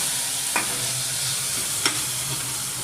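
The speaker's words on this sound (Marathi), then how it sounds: "मेथी दाणा टाकून घ्यायचा, छान असं परतून घ्यायचं" Fenugreek seeds and onion are sautéed for a methi dana curry, producing a steady loud sizzle with two brief scraping stirs of the spatula and no speech.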